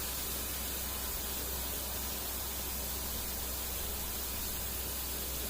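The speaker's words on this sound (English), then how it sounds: "Inks are a really good spot to start airbrushing because they'll give you that filter control." An airbrush sprays ink onto a painting. A steady, even hiss of air continues close and unbroken from start to finish with no voices.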